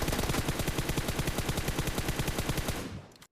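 Rapid automatic gunfire from a prone position in PUBG Mobile, a dense unbroken burst of evenly spaced shots lasting about three seconds before cutting off, loud and close with no talking.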